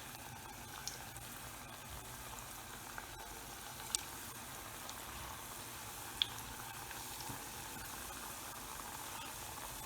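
Jamaican festival dumplings frying in a pot of hot oil, a faint, steady low sizzle and bubble with a few tiny pops along the way.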